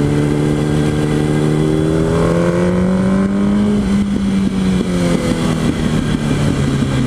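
Yamaha YZF R1 sport motorcycle on a test ride, its engine loud and close with a steady drone that climbs and falls through rev changes, no talking.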